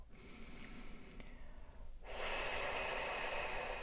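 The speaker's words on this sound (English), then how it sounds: "Now breathe out long and slow." A slow, long exhalation is heard alone, a soft steady rush of breath that swells and holds for a couple of seconds after a quieter stretch.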